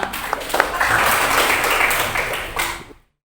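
Students in a classroom clap for a group after its presentation, a short round of applause that swells quickly, holds briefly and fades out.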